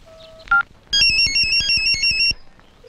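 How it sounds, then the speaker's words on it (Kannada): A phone gives a loud, pulsing electronic ringtone in a quick repeating pattern for about a second and a half, close by, after a couple of short beeps, with no talking. "ರಿಂಗ್ ಆಗ್ತಾ ಇದೆ."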